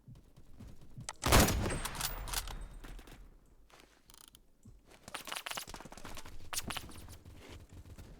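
Rapid bursts of SKS rifle fire in the shooter game Phantom Forces, with a loud cluster of shots early on and further volleys later, layered with game effects.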